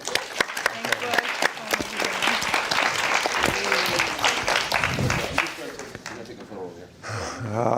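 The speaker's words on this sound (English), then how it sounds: "Another round of applause for our" Audience clapping at a conference session, dense and lively at first, then thinning as voices talk over the tail end.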